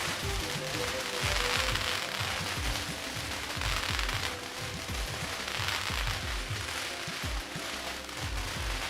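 Fireworks go off at a Diwali festival in Hollywood, rapid irregular pops and crackles firing in dense clusters over a continuous noisy outdoor crowd backdrop, moderately distant and sustained.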